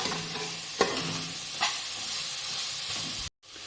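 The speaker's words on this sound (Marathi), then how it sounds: "आता यामध्ये मी किसलेलं बीट टाकणार आहे. ते व्यवस्थित हलवून घ्यायचं आहे." Grated beetroot fries in ghee in a kadhai, making a steady hiss and sizzle. A spatula scrapes through it at regular intervals, and the sound cuts out briefly near the end.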